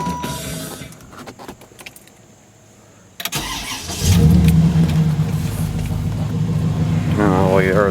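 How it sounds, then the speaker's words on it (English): A 1994 Chevy Caprice 9C1 engine cranks over with a Corvette starter's whine, then catches and settles into a loud running idle, with faint background noise before it. "Oh, you heard that. That was a Corvette starter."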